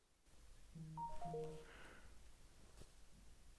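A mobile phone ringtone plays a short rising run of electronic melody notes, clear but modest in level over a quiet room background, fading after a couple of seconds.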